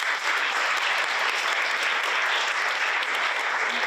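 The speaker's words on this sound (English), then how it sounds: "Let's give her a round of applause" Steady, dense applause from an audience at a community book kickoff gathering, clapping evenly throughout with no speech over it.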